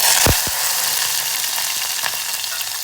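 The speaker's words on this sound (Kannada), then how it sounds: "ಈಗ ಇದನ್ನು ಚೆನ್ನಾಗಿ ಫ್ರೈ ಮಾಡಬೇಕು" Goat brain fries in a hot kadai with a loud, continuous hiss and sizzle, a couple of sharp spatula knocks near the start, nothing else heard.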